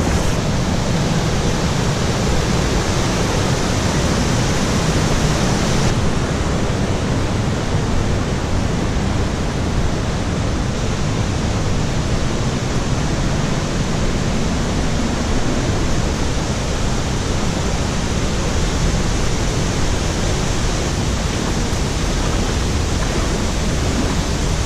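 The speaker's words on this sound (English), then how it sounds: "Waterfalls everywhere." Waterfalls near Mooney Falls in Havasupai give a loud, unbroken roar of falling water, close and steady throughout, with no voices.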